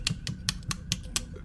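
Hooves tap on a starship console in six loud, sharp clicks, spaced roughly evenly and heard close up against a quiet background.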